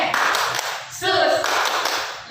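A Sunday school group of children claps hands while voices chant over the top, the clapping continuous and fairly close with a brief sung phrase in the middle.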